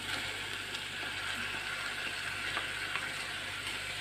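Tomatoes added to a hot pan for pav bhaji give a steady, close sizzle of frying that holds evenly throughout, with a few faint clicks of utensils and no voices.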